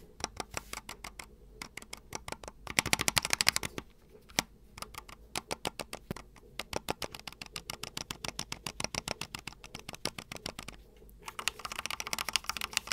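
Typing on a Drunkdeer G60 keyboard whose stabilizers rattle slightly: rapid, crisp, close key clacks in dense bursts with short pauses between runs, plus a few brighter, louder flurries, with no voices.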